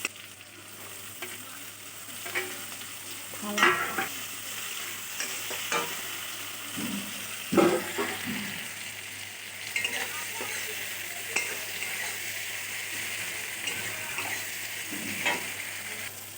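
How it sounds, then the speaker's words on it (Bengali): Onion and tomato fry in a pan with black cumin seeds while a utensil stirs them, giving a steady soft sizzle broken by periodic scraping strokes. "পেঁয়াজ টমেটো ভাজা ভাজা হয়ে গেছে,"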